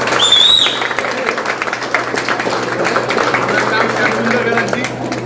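Audience clapping at a gym's second anniversary celebration, a moderate patter of hands running throughout with a brief whistle near the start and some voices mixed in.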